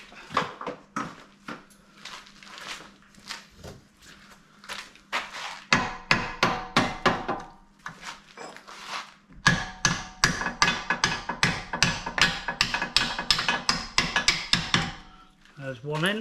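Repeated hammer blows knock a part into a Land Rover Discovery 3 front lower wishbone, sharp metallic strikes coming in bursts of quick rhythmic taps with short pauses between, close and loud.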